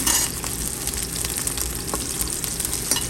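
Sliced onion sizzles loudly in hot oil as it is sautéed and stirred in a pan for chop suey, a continuous close frying hiss broken by occasional scraping clicks.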